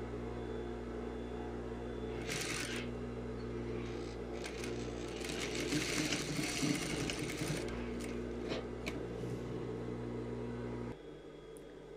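A sewing machine stitches a sleeve cuff with a steady mechanical hum and rapid needle chatter that swells in the middle, then drops to a quieter motor whir near the end; no voices.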